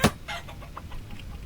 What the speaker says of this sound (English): Oh hey. It's a rooster.